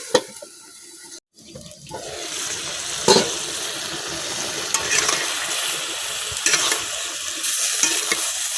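Spice paste frying in a pan for a mixed vegetable curry with khalshe fish and eggplant, with steady sizzling broken by scraping stirs and a brief gap early on, close and moderately loud throughout.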